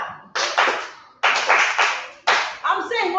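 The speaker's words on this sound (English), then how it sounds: "Give her a clap" A grade 5 class claps for a pupil in a lesson, three separate bursts of rhythmic hand clapping, each starting sharply and fading, with brief gaps between.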